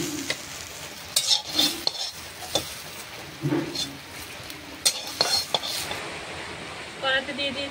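Spices crackle and sizzle in hot mustard oil in a wok: bay leaf, dried chillies and radhuni. Bursts of spitting come with clinks and scrapes of a utensil against the pan, and a voice talks over it.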